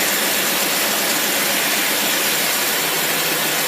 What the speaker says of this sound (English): I'm going to turn the dyno on